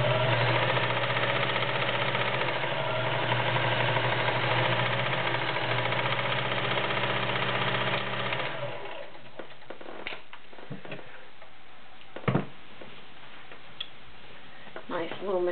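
A 1946 Kenmore convertible sewing machine runs steadily for about eight seconds with a fast mechanical whir and tick, close and loud, then stops, leaving scattered small clicks and handling noises.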